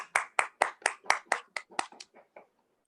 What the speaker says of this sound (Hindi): एक बार जोरदार तालियां मनोज सर के लिए।